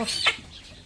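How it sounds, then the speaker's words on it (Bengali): A rooster about to be slaughtered gives a single short cluck close by, one brief rising squawk lasting under a second. "কক মুরগি নিয়ে আসলো এখন কক মুরগিটা এখন জব করবো"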